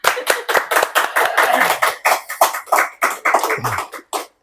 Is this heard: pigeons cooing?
no